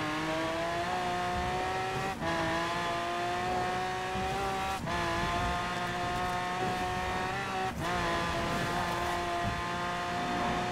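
A car engine in Forza Horizon 4 driving at full speed, droning at high revs close up, with tonal whine stepping down briefly at each gear shift, three times, before climbing again.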